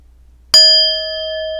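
A small meditation bell is struck once after a near-silent pause, giving a sharp bright strike followed by a clear sustained ring that lingers and slowly fades.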